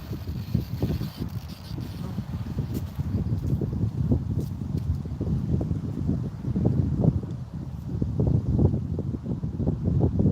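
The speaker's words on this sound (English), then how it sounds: "it's getting windy" Wind blows outdoors in rough, gusting buffets, a low rumbling roar that rises and falls throughout.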